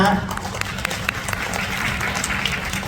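An audience claps at a Bangkok press conference for a K-pop world tour, with scattered hand claps and a low crowd murmur running beneath a speaker's amplified voice.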